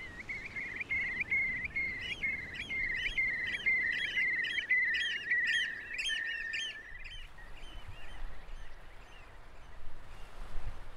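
Shorebirds resting at slack high tide call in a rapid series of bright, repeated chirps and whistles, steady and close for several seconds before fading, over a soft hiss of wind and water.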